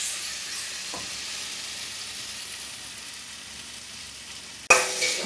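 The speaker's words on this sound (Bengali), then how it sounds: "এরপরে কড়াইশুঁটিগুলো দেওয়া হলো, দিয়ে ভালো করে নাড়াচাড়া করা হচ্ছে।" Green peas stir-frying in a kadai with curry paste for a Bengali fish curry sizzle steadily in hot oil, with a sharp louder burst of frying near the end.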